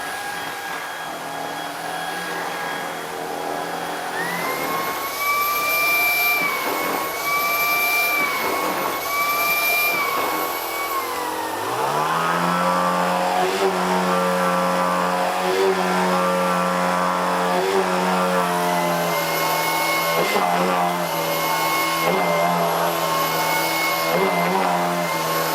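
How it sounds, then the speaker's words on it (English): A Shark Vertex Cordless DuoClean stick vacuum runs steadily for a long stretch with a whining motor hum and airflow hiss, shifting in pitch partway through as the power changes, heard near and on its own. "Here's a noise level demo so you can hear what the Vertex Cordless sounds like."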